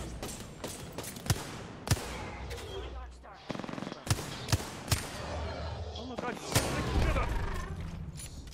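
Scattered gunshots ring out in the Apex Legends battle royale, sharp single cracks and short bursts at irregular intervals, some near and loud, others farther off, mixed with game effects while players talk.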